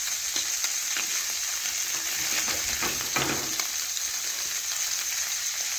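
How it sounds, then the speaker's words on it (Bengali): Small fish frying in a pan, turned to cook the other side, giving a dense, continuous close sizzle with crackling oil spatter and light scraping, and no voices. "এইভাবে আরেক পাশ আমি ভালোভাবে ভেজে নিচ্ছি"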